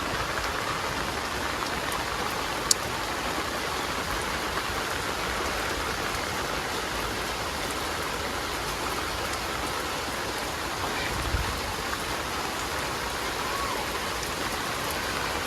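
Steady monsoon rain falls on a village, a dense, even hiss of drops that continues unbroken throughout with no voices.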